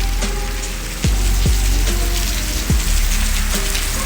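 Heavy village rain falls on a surface in a steady dense patter, close and loud, with a few sharp dropping tones cutting through and no voices.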